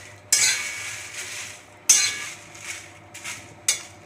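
Dried chilies and a bay leaf being dry-roasted in a pan for mango pickle, with a spatula scraping and stirring in four sharp strokes over a faint steady sizzle, close and without talking.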